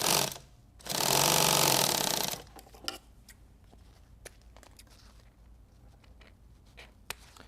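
A sewing machine runs a hem in one steady burst of about a second and a half, loud and close, followed by quieter scattered clicks and handling taps.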